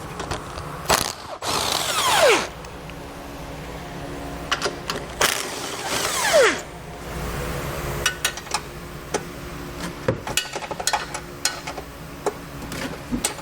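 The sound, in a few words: 12mm socket ratchet removing Toyota Prius bumper beam bolts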